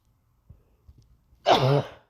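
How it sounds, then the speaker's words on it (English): A single sneeze from a woman, preceded by a few faint breaths and catches, then one loud, close, throaty burst lasting about half a second. "all of a sudden I want to sneeze while I'm doing the video"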